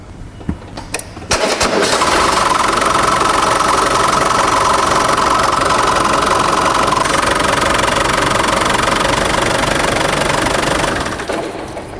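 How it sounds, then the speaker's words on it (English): A Land Rover Discovery 300Tdi diesel engine cranks and catches, then idles steadily and loudly with a rough, knocking chatter before easing slightly at the end. "Now we can start the engine, run it for about 5 minutes"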